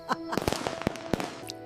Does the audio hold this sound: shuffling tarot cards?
no